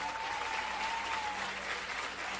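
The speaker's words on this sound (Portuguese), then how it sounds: "Você pode aplaudir ao Senhor" A church worship crowd claps for the Lord after a band is introduced, steady broad applause held at an even level throughout, with a faint sustained tone running beneath.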